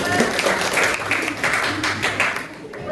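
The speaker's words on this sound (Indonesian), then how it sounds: "Tepuk tangan untuk Rina." Students in a classroom applaud a classmate named Rina, a short burst of clapping with uneven rhythm and some voices underneath.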